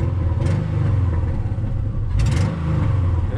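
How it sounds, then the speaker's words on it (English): A wrecked Subaru Legacy's engine idles with a low rumble, then revs up twice in short bursts, loud and close. "Revs up."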